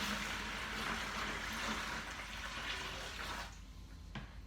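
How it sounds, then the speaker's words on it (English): Steady rushing pour of water into a bucket, continuous and fairly loud, cutting off near the end with a brief drip. "So we'll pour that in our bucket."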